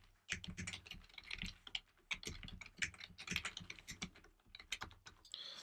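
Rapid keystrokes on a computer keyboard while typing SwiftUI code, an irregular run of close, crisp clicks and taps that come in quick bursts with brief pauses.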